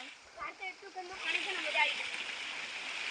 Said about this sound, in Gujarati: અહીંયા પાણી આવી રહ્યું છે.